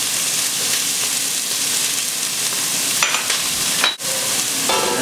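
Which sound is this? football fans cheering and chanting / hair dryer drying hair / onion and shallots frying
onion and shallots frying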